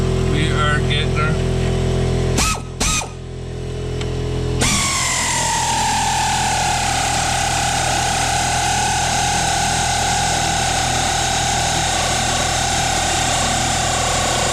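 An air compressor running in a home garage, a loud steady motor drone that starts after a few seconds of clattering noise and then holds an even hum throughout, close by.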